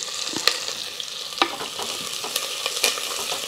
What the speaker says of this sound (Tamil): நல்லா வெங்காயம் வணங்கிடுச்சு